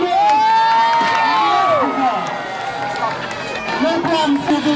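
Fair crowd at a BMX bike and skateboard stunt show cheering and screaming loudly and continuously, with high children's shrieks and whoops rising above the steady roar.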